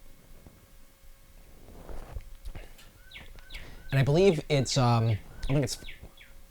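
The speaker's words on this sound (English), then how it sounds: "There's a clock in this room that has bird songs as the hour chimes." Birdsong chirps from a clock's hourly chime sound faintly in the background, followed by a person speaking up close.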